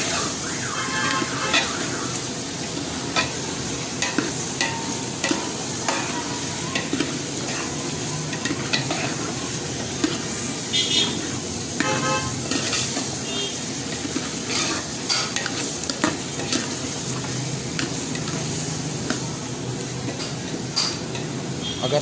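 About two kilograms of cut potatoes fry in a pan for an aloo anda curry, a constant close sizzle broken by repeated scraping and clinking stir strokes.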